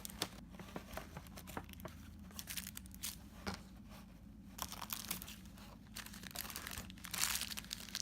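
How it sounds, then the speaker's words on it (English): Plastic packaging being pulled off a Tracer figma figure, with close, quiet crinkling, rustling and tearing in irregular bursts and scrapes, growing busier toward the end, with no talking. "Let's get all of this plastic off of her."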